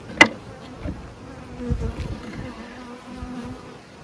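Honeybees hum steadily during a beehive inspection, a close, continuous insect drone with a sharp click near the start and a few low bumps of handling, no speech.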